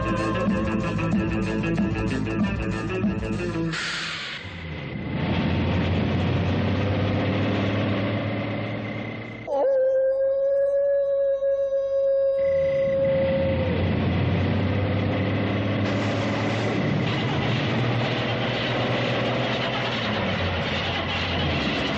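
A car engine idles with a low, steady rumble before the car stalls and stops in a forest; the drone dips briefly and a tonal hum enters midway before the rumble resumes.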